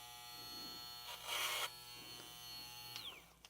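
A VGR 880c hair clipper hums steadily and close, swelling into a louder, rougher buzz for about half a second as the blades chew through a brush, then settling back to a plain motor drone.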